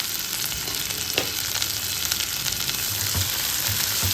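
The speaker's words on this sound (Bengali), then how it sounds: "পেঁয়াজটা কিন্তু লাল করে ভাজতে হবে, কাঁচা কাঁচা রাখবেন না" Chopped onions fry in hot mustard oil with a steady, close sizzle and occasional stirring clatter, and no voices.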